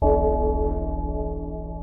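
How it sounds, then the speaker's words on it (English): A single struck bell rings out loud and clear, its bright metallic tone with steady harmonic overtones decaying slowly over about two seconds, alone with no talk. "we should quickly ring the spoiler bell, actually, before we do the second half of the movie"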